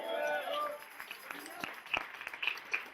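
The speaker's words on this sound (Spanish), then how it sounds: "¿Cuántos pueden aplaudir a Cristo?" A church congregation claps in scattered, uneven bursts that sound somewhat distant, following a stretch of a voice at the start.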